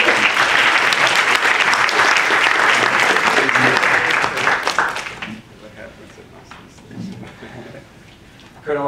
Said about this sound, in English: a round of applause for our panel.